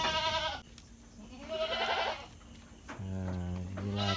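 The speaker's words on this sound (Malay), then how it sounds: "Inilah kambingnya di kandang" Goats in a farm pen give several loud, close bleats, with one long wavering cry near the end and restless pen noise between the calls.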